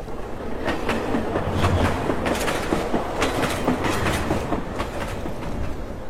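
A train running on rails, with a steady rolling rumble and a rhythmic clickety-clack of wheels that stays constant throughout, heard alone without any voices.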